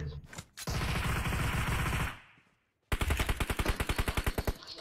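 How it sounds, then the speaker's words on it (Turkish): Automatic gunfire in a shooting video game: a long loud burst of rapid shots, a short silence, then another fast, evenly spaced volley of sharp, close shots. "arkanızda vuruyor Murat abi."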